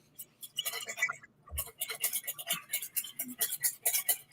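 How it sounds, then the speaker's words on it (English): Hand whisking in a bowl, done alongside pouring in a kitchen with only basic utensils: a rapid, fairly steady run of light metallic clicks and scrapes, close and clear, briefly pausing once before resuming. "you can work on whisking and pouring at the same time."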